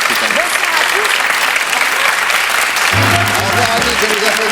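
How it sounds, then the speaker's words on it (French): A 1970 French TV game show studio audience applauds Annie, sustained dense clapping at full volume, with music or voices faintly surfacing beneath in the second half. "Au revoir, Annie, que nous applaudissons très fort"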